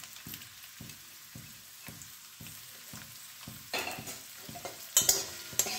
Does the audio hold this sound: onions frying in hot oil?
yes